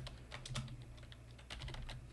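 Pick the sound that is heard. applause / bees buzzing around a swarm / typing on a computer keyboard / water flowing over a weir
typing on a computer keyboard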